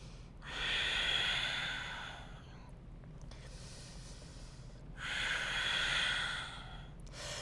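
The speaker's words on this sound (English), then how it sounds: "Couple breaths." Two long, slow, audible breaths taken during a held pose in a hip-opening yoga flow, each a drawn-out airy rush up close, separated by a quieter pause.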